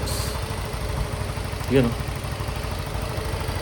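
Yamaha Mio i 125 scooter idling steadily at close range after an oil change, a low even engine drone running under a man's speech.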